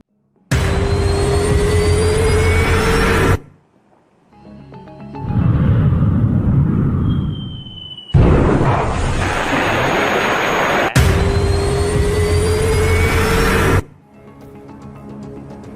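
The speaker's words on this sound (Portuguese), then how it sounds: "os aviões que estão chegando ao Teatro do Caribe são vários. Já vimos os F-35" F-35 military fighter jets roar loudly in long, sustained blasts of broadband engine noise, broken by brief quieter gaps and a softer rumbling stretch, with no talking.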